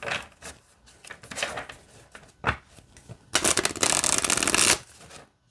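A deck of oracle cards being shuffled by hand, with several rapid riffling bursts building to one long, loud continuous shuffle near the end, close and alone.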